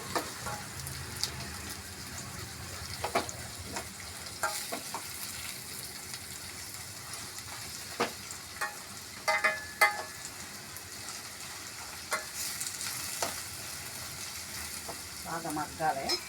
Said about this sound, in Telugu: కొద్దిగా కరివేపాకు, కొన్ని ఉల్లిపాయలు ఫ్రై చేసుకుందామండి